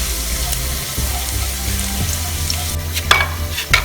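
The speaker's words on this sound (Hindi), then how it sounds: "लहसुन को हमने फ्राई कर लिया है" Garlic frying in a pan over medium flame, a steady close sizzle with light stirring scrapes and a couple of sharp clinks near the end, no talking.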